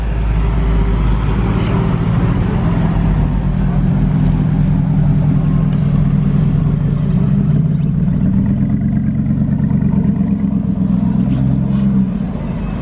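A Mercedes SLR 722S Roadster with a loud non-stock exhaust arrives in Monaco, its deep, steady engine rumble filling the whole stretch at close range with no pauses.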